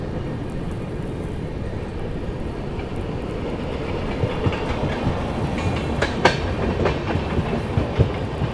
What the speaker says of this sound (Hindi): हैदराबाद नई दिल्ली तेलंगाना एक्सप्रेस।